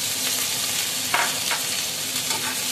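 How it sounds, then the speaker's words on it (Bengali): Grated ginger fries in hot oil, giving a steady close sizzle with a brief brighter crackle burst partway through and light stirring. "প্রথমে আমি তেলের মধ্যে আদা দিয়ে দিচ্ছি, আদা গ্রেট করা আদাটা।"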